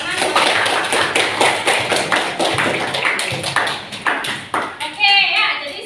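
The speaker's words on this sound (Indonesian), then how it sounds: "Tepuk tangan." Classroom students clapping for a group that earned points during a chemistry lesson on alkene isomers: a burst of close, uneven claps and taps, fading near the end as a bright ringing tone and some chatter come in.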